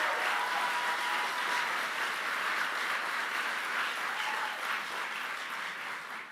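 A crowd at a political rally in North Carolina applauds continuously, a dense, even roar of clapping heard from a distance and fading slightly toward the end.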